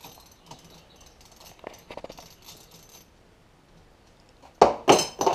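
Bolts being tightened by hand on a Suzuki DF90–DF140 outboard motor during a hydraulic tilt-motor replacement: faint, sparse metallic ticks and clinks, then a quiet pause and a few loud, close clanks and ratchet-like clicks at the end.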